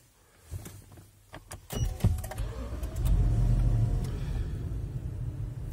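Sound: Lexus LX 570 engine being started

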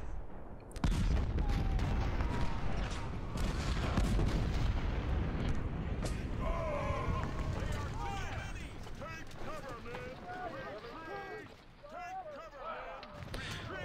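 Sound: musket volley fire from infantry, Ultimate General: Civil War video game

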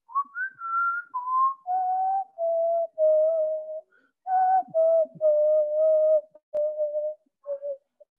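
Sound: whistling imitating a flute

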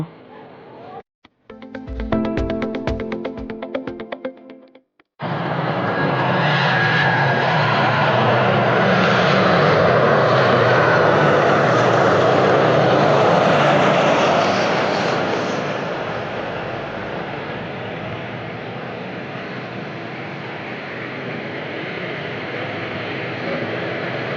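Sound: airplane engine on runway preparing for takeoff

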